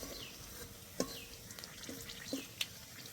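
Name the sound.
frying dried red chilli, bay leaf and cumin in oil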